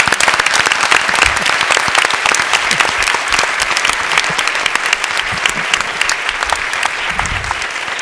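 Strong, continuous audience applause at a joint conference panel on acupuncture and oncology, dense clapping from many hands sustained at steady loudness throughout with no speech over it.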